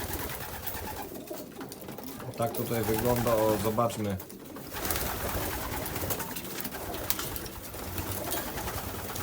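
Racing pigeons coo in soft, repeated low warbles, close by, as they finish eating, while a person talks over them and some rustling fills the background.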